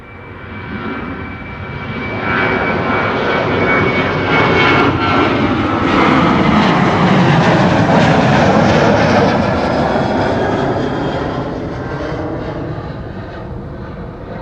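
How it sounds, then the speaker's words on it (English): A KLM Boeing 737-800 jet departing Schiphol, eighteen years old, roars past loudly; the engine noise swells to a broad peak around the middle and then slowly fades, with no voices. "this is the Papa Hotel Bravo X-Ray Victor 737-800"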